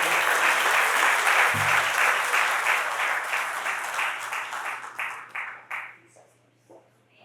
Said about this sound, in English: Thank you, Tracy, for that little cheer.